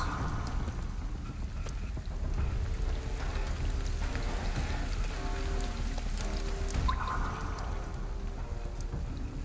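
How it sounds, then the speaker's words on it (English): Steady rain falls across the streets in the video game Ghostwire: Tokyo, a soft, even patter of drops hitting surfaces, heard on its own at moderate loudness with no voices. "Rain is falling a normal direction"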